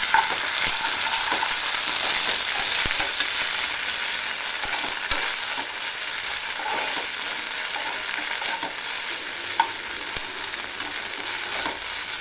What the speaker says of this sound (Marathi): आता मी अद्रक लसूणची पेस्ट टाकते 1 चमचा. ती पण तेलामध्ये चांगली फ्राय करून घेते.